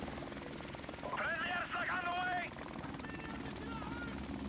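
A helicopter in a first-person shooter game, likely a called-in chopper killstreak, rotors thumping steadily under continuous talk, with a brief brighter whine passing through the middle.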